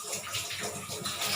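Cold water runs steadily from a tap into a sink, a continuous splashing hiss that fills the short moment without any pause.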